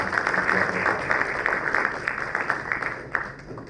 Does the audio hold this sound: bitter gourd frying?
no